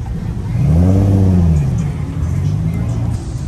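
A Nissan 350Z rolls in at a car meet, its engine note swelling loud and close with a rising then easing rev before settling into a steadier hum as it passes, with people talking over it.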